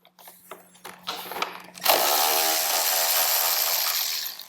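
A power tool backs out bolts on a 2016 Harley Davidson Road Glide CVO, with a few light knocks and handling sounds first, then a loud, steady high-pitched whir that runs for more than two seconds.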